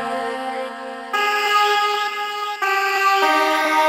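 A sampled melody layer plays from a Roland MC-707 groovebox with a panning LFO: sustained tonal notes stepping through a short phrase, bright and loud, with no voices.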